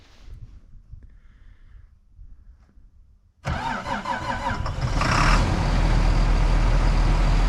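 Quiet outdoor background gives way to a sudden engine start on a repaired vehicle, which catches and settles into a loud, steady running rumble that builds slightly, with no talk.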